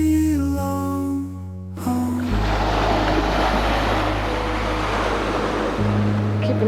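Ocean waves crashing on the shore at Race Point, Cape Cod National Seashore: a broad steady roar of surf and wash, close and loud, with wind over it and a low engine hum running underneath.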